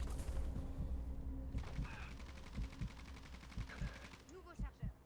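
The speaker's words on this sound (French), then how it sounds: "Je tire pas au hasard, c'est moi qui tire." Rapid bursts of automatic gunfire from a Call of Duty Warzone battle royale match, with repeated loud shots and short volleys over steady game ambience, while a voice speaks under the action.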